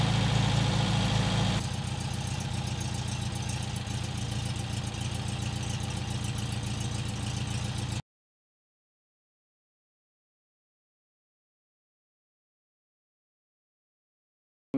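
A Porsche 356 engine fitted with Solex 40P11 carburetors runs on a test stand at a steady idle, a continuous close mechanical drone that cuts off abruptly partway through, leaving silence.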